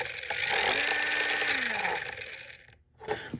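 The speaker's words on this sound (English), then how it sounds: "that noise means we're in business. So the steering servo is working." The steering servo of an upgraded 1:24 scale Jada Toys Lightning McQueen RC car whirs in a short electric whine that rises, holds and falls over an airy background hiss, followed by a brief quiet clatter.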